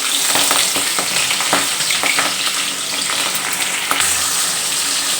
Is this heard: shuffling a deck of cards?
no